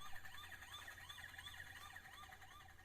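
A battery-powered toy truck siren wails in a repeating electronic up-and-down pattern, thin and moderately quiet, continuous across the whole stretch with no talking.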